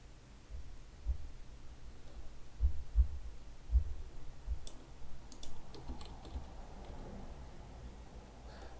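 Arrow keys on a computer keyboard are tapped several times at an irregular pace while editing a 2D game animation, giving soft, close clicks over a low steady hum.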